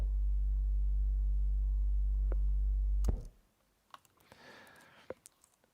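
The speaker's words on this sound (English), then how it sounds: "I just mute the strings again, only to hear the sub bass." A sub bass synth plays low notes alone in a trailer-music arrangement: a deep, loud, sustained tone that holds for about three seconds, then cuts off, leaving faint clicks.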